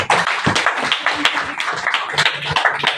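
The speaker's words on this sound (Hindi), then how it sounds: "तालियां बजाओ।" An audience at a speech gathering in Morena claps loudly and continuously for a few seconds, a dense burst of many hands close by, with some voices mixed into the applause.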